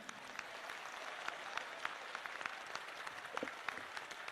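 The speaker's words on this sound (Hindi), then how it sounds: "तो जोरदार ताली सभी पुरुष बजाएं।" A large crowd of men claps together at a Hanuman Chalisa recitation gathering at Bageshwar Dham, a steady, somewhat distant clatter of many hands that continues evenly for several seconds.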